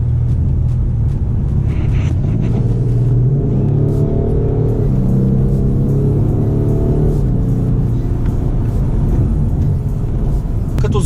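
A BMW 840d xDrive (2019) diesel engine accelerating with its exhaust flaps open, a steady loud rumble and rising drone heard from inside the car, continuous throughout.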